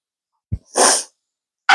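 A single forceful sneeze from a person with sniffles in a home kitchen, preceded by a brief sniff and followed by another quick sniff, close and loud against silence.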